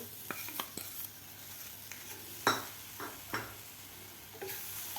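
Grated coconut and powdered jaggery stirred in a pan over low heat: a quiet sizzle with sharp scrapes and clinks of a spoon against the pan, several distinct strokes spaced irregularly.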